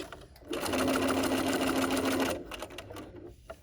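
A sewing machine stitches an X across a dog leash in one loud, steady burst of about two seconds, followed by quieter handling sounds.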